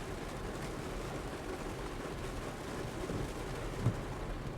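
Steady broadband rain noise heard from inside a Kia EV6 RWD GT-Line while driving, a dense continuous wash of drops on the car body with road rumble underneath and a brief louder thump near the end.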